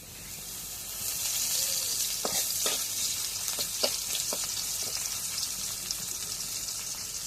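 Oil hitting a hot pan sizzles steadily at a moderate distance, with a handful of sharp clinks and scrapes scattered through the continuous frying hiss.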